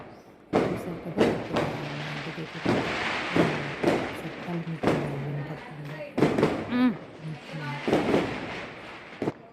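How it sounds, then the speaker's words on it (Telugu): Firecrackers burst during a Ram temple consecration procession, a rapid, irregular series of sharp cracks and pops, some near and loud, with voices talking in between. "క్రాకర్స్ అనేవి కాల్చడం మొదలెట్టారు"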